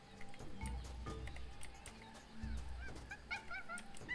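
Honking birds in the video game Tales of Monkey Island, two loud goose-like honks about two seconds apart amid other short game sound effects.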